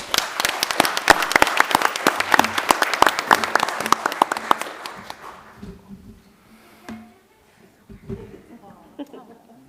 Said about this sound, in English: a round of applause for our honorees today